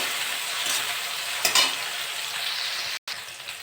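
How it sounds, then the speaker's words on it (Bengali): Prawns fry in a pan over sautéed onion, a dense steady hiss and crackle up close, with a couple of brief stirring bursts and a momentary dropout near the end. "আমি এবার চিংড়ি মাছগুলো দিয়ে দেবো, ভালো করে ভেজে নেবো।"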